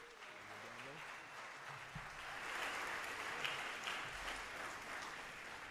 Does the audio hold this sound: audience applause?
yes